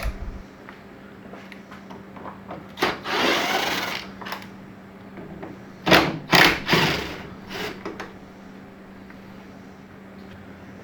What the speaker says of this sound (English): So I need to get these bolts off.